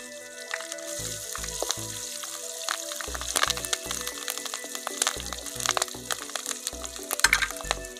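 Curry leaves and green chilies fry in hot oil for a mushroom fry, crackling and popping in sharp, irregular bursts over a steady sizzle, close and alone without talk.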